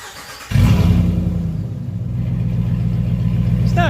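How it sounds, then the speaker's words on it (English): A 2020 Ram Warlock pickup's big engine cranks and roars to life with no muffler or resonators, then settles into a loud, throaty, rumbling idle with a raw, unmuffled edge. "we're gonna fire it up with no muffler, no resonators, just wide open"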